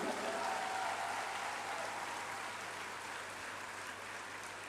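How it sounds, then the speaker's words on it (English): An audience at the opening ceremony of an international family planning conference gives a round of applause: a broad, even patter of many hands, fairly distant and soft, fading slightly over a few seconds. "Please give a big round of applause to all of you in this room."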